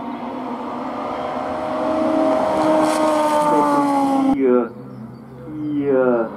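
A race car climbs a hill climb course near Hébécrevon, its engine loud and close, rising through the gears with rapid shifts and revs before easing off and revving again.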